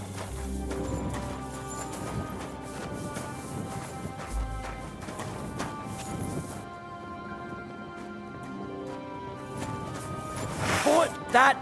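Horse hooves clip-clop steadily with a whinny near the end in the medieval video game Kingdom Come: Deliverance II, set against background game music and voices.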